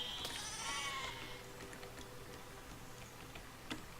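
A sheep bleats in the video game Besiege, one wavering cry near the start, followed by faint ticking and low game background noise.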